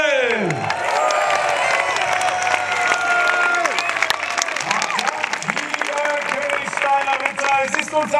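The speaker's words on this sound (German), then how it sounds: "Jubel!" A crowd at a night knights' tournament at Königstein fortress cheers and applauds loudly and steadily, with whoops rising over the clapping and voices carrying through.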